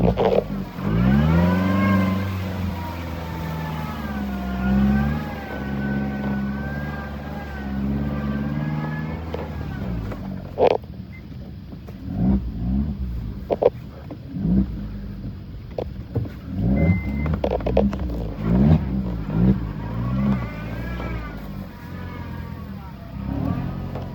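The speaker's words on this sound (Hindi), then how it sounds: "गाड़ी रिवर्स से जानी पड़ रही है मेरे को यार।" A car reverses through deep snow at night in Manali, its engine revving and straining in long sustained pulls, with someone talking over the engine noise in the second half.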